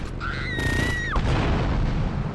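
Gunfire in the video game GTA Vice City Stories, a sharp loud burst of shots with booming impacts, preceded by a short synthetic whistling tone that sweeps down, all over steady game background noise.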